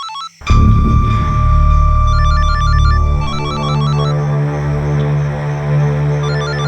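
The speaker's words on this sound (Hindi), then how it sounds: "किसका फोन है?" A mobile phone rings inside a moving car, its repeating electronic ringtone melody sounding steadily for several seconds over a loud, low engine and road drone, with no talking.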